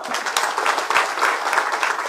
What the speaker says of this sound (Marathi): जयाभाऊंच्यासाठी जोरदार टाळ्या वाजवा